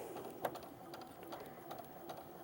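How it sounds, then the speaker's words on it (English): Sewing machine stitching along a marked line on fabric for a mitered-corner casserole holder; a steady, fairly faint mechanical whir with light rhythmic clicking and one sharper knock near the start. "And then I'm going to sew right on the line."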